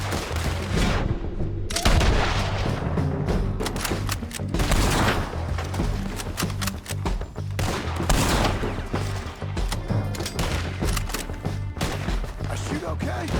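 Gunfire rings out in the video game Red Dead Redemption 2, loud repeated shots and volleys of varying weight across a tense firefight, with voices talking in between.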